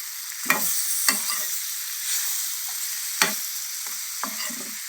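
A spoon stirs salted dried fish curry with tomatoes and brinjal in a sizzling pan, giving several sharp scraping knocks over a steady frying hiss, with no talking.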